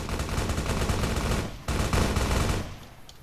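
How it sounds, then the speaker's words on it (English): Dense, rapid bursts of gunfire in the video game Fallout: New Vegas crackle almost continuously, briefly dropping out midway before resuming and then tapering off near the end. "I obviously hear gunshots."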